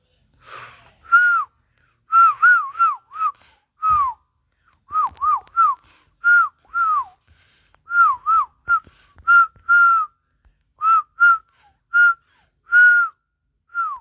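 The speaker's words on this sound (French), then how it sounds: "Bon, ok, j'arrête de siffler." A person whistles a series of short, clear, repeated notes with brief pauses between them, close by and fairly loud, with no talking.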